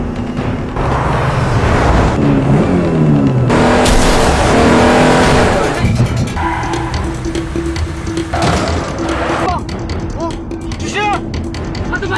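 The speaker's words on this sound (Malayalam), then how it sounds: "പിന്നീട് അങ്ങോട്ട് നടക്കുന്നത് ഒരു ഗംഭീര ചേസിംഗ് ആണ്" Cars roar and rev through a film car chase, engines surging loudly with passing whooshes and tire squeals across a dense, continuous soundtrack, with music and effects layered throughout.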